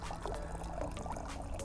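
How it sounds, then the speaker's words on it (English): Water pours steadily into a container, a soft, continuous, faint splashing trickle with no voices. "if I pour water in at a higher rate, faster than the water that drips out at the bottom"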